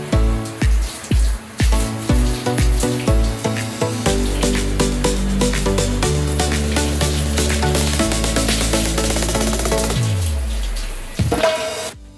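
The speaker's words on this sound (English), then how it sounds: "Time to get in the shower and rinse it out." Shower water runs while a chocolate hair mask is rinsed out, a loud, steady hiss that opens with a few splashy bursts and stays continuous throughout.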